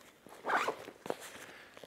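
The red zipper on an avalanche airbag backpack is pulled open in one brisk rasping stroke, followed by a shorter second zip and light handling rustles, close and quiet.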